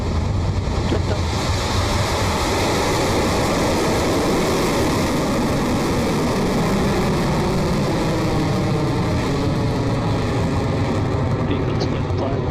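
Rocket Lab rocket engines roaring at liftoff during a launch carrying two satellites, a heavy continuous rumble with a wind-like roar that fills the whole span, loud and steady.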